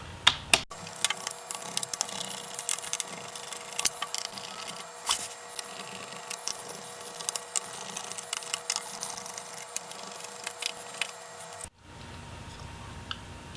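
Small Phillips 2.5 screwdriver backing screws out of the bottom case of a Dell Inspiron 15 3000 laptop: quiet, steady run of fine ratcheting clicks and scrapes, close up, with no talking, ending abruptly near the end.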